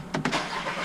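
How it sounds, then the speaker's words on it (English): A Volkswagen Passat B6 with the 2.0T engine starting up: two quick starter bursts followed by the engine catching and settling into a steady idle, heard up close with no speech. "the car started up pretty good and everything"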